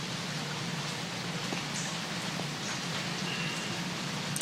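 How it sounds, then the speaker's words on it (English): Light rain patters steadily outside a porch, a soft even hiss of drops on surfaces with no voices, steady throughout with a small tap near the end. "listening to the last little bit of rain before the next big storm moves in"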